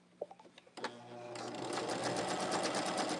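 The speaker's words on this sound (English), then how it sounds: "I'm going to back stitch just to secure it again" A sewing machine back-stitches a quilt border, opening with a few soft clicks and taps before settling into a fast, steady close-up whir that holds until the end.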